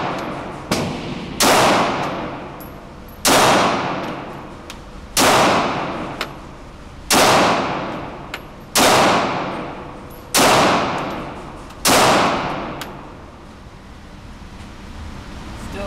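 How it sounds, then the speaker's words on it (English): Gunshots ring out at a shooting target, about eight sharp reports spaced a second or two apart, each followed by a trailing echo, with no talking between them. "I gotta warm up when I'm shooting. I got center mass on my target."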